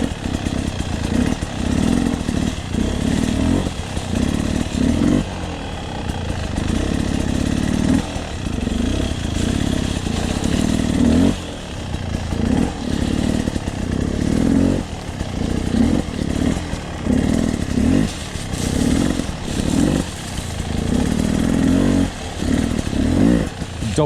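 A 2020 Beta 300RR Race Edition two-stroke dirt bike engine runs continuously and loudly while riding, lugging low in the revs with pulsing throttle surges and no break in its drone.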